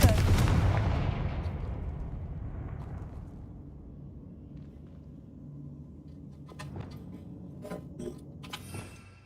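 A Confringo fire spell cast in the game Hogwarts Legacy, a loud booming explosive blast that rolls off into a fading rumble, followed by scattered crackles and small impacts.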